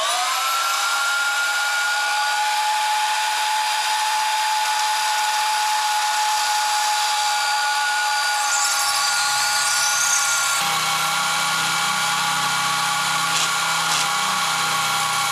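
A drill runs without pause while boring holes into a beam for half-inch conduit and strikes a hidden steel plate. The whine is loud and high, with its tone shifting partway through.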